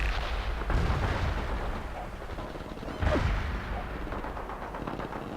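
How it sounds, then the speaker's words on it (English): Sustained battlefield din from the World in Conflict strategy game, with dense artillery fire and machine-gun bursts rumbling continuously, and two heavier booming surges standing out near the start and middle. "Shoot wide with that machine gun!"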